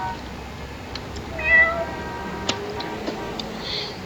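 A cat in the video game Whack Your Terrorist meows a few times over a steady low hum, with faint ticking clicks in the background.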